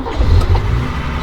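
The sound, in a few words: 1968 Mercedes-Benz 280SL engine starting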